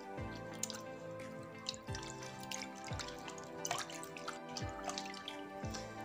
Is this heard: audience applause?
no